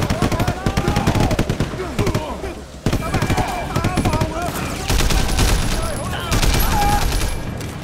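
Assault rifle gunfire in the video game Sleeping Dogs: rapid, loud bursts of automatic shots repeating steadily, with louder sustained volleys late on.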